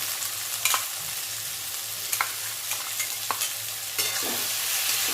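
Spiced ginger-garlic masala for a thin mutton curry being fried and stirred in a pan, with a steady soft sizzle under scattered scraping clicks of a spatula.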